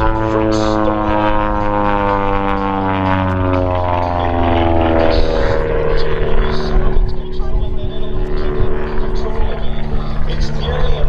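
Long-EZ aircraft flying aerobatics at the MCAS Beaufort air show, a loud propeller engine drone whose pitch sweeps downward as it passes, under steady commentary.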